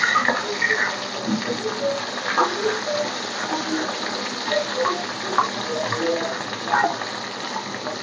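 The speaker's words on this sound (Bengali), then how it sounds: "আমি বেশ কড়া করে সব মাছগুলো ডুবে তেলে ভালো করে সুন্দরভাবে ভেজে নিয়েছি" Large koi fish deep-frying in plenty of hot oil until crisp, a steady bubbling sizzle with occasional louder spits and crackles, with some faint talk behind.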